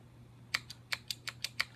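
Keystrokes on a broken Alps mechanical keyboard: about seven separate clacks in an uneven rhythm, fairly close, alone over a low steady hum.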